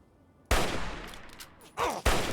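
Fallout 3 combat: sudden loud bursts of gunfire and explosive noise erupting at once, rumbling, then two more sharp blasts; no talk.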